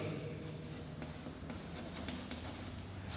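A pen scratches across paper while writing the scale on a bar graph for a class 7 maths lesson, with faint, intermittent strokes in a quiet room.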